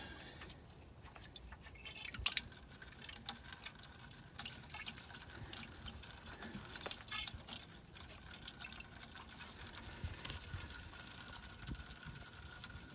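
Antifreeze coolant drains from a 2014-2018 Chevy Silverado into a bucket, a steady liquid trickle and splatter with scattered drips, moderately loud and continuous.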